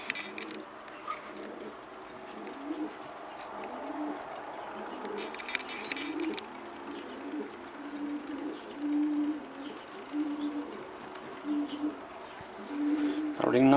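Jan Aarden racing pigeons, a pair of nest mates, coo softly and repeatedly in a low, throaty rhythm close by, with handling rustles and faint background noise throughout.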